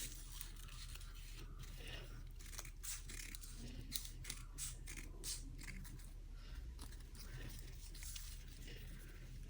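Scissors cutting paper on a table to make shredded crinkle paper, a steady run of soft close snips and paper rustle, faint throughout, with no talking.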